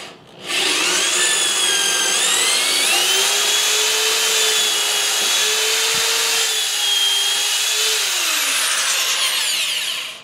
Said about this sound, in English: I had to keep pulling the drill bit out to eject the actual wood shavings